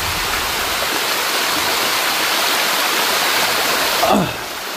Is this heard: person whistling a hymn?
no